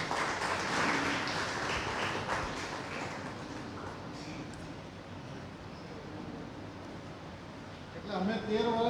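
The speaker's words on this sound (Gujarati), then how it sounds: "આપણે તુષારભાઈને તાળીઓથી વધાવીએ." A hall audience claps together to welcome a guest speaker at a Gujarati library book talk. The steady, dense applause fills the room and fades slightly toward the end as a voice begins speaking over it.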